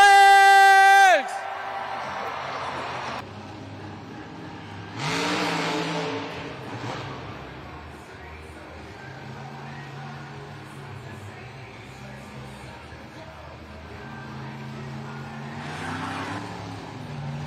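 Monster Jam truck engines rev in a New Orleans stadium arena, loud bursts that swell and fade between quieter stretches, with a crowd cheering and whooping and an announcer talking over the noise.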